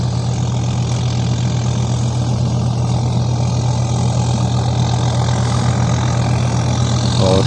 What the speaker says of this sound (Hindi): इसलिए थोड़ा स्लो आ रहा है ट्रैक्टर